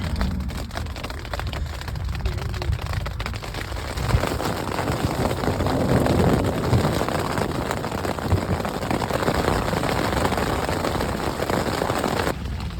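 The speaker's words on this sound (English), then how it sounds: "It's currently raining." Rain patters steadily on a tent at a campsite, a dense continuous hiss of drops that grows heavier after the first few seconds and holds at a fairly loud level throughout, with no voices.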